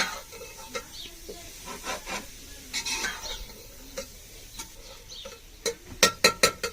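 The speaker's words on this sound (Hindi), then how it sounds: "और अब इसमें मैं डालूंगी, ये है बंद गोभी, वो भी मैंने बारीक से काट के रख चुके हैं।" Finely chopped cabbage stirred into a pan with ginger, garlic, onion and green chilli, giving a steady frying sizzle under repeated scraping strokes of a spoon, with a quick run of sharp clicks against the pan near the end.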